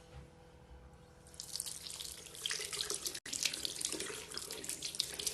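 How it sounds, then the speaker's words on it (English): A makeup brush is rinsed under warm running tap water; the faucet starts quietly, then surges into a steady, close splashing stream that continues alone with a brief break. "rinse off in some warm water"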